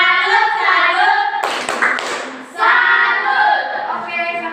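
Classroom group clapping chant, a tepuk salut, with young voices chanting in unison and a burst of hand claps in the middle before the chanting resumes.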